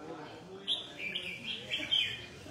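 A caged songbird at a 130-cage bird-singing competition gives several quick, high chirps over a noisy crowded background with murmuring voices.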